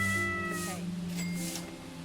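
A cat meows in the gas-station game Pumping Simulator 2, a drawn-out tonal call that bends and fades, followed by a shorter, higher cry over low background hum.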